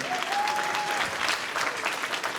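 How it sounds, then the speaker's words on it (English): An audience at a scholarship awards ceremony applauds two winners, a steady, full round of clapping with a brief whistle-like tone early on. "Let's a round of applause for these 2."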